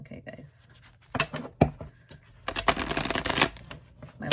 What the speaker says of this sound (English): so I'm just gonna shuffle on camera